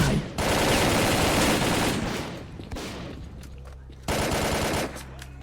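Gunfire in the shooter S.T.A.L.K.E.R.: Call of Pripyat, dense bursts of automatic fire in loud stretches separated by a brief lull, with a low steady hum beneath.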